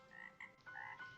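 A cartoon frog croaks in an animated bedtime story: two or three short, nasal croaks in quick succession, soft and close, with no talking over them.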